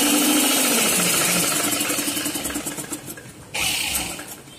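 An electric sewing machine stitches a two-inch folded hem on a churidar salwar pant, giving a steady close whirring run that drops off briefly and then starts again.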